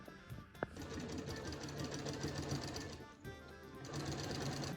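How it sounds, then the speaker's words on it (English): A sewing machine runs in rapid steady bursts, stitching diamond fabric pieces onto a Renaissance jester costume, close and continuous with a brief pause near the three-second mark. "I finished sewing the diamonds on the front and the back"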